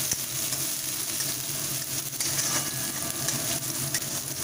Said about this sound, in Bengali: রসুনটাকে একটু সটে করে নিচ্ছি